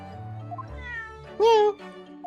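A cat named Wagahai from the Great Ace Attorney video game gives one clear, loud meow that rises above soft background music.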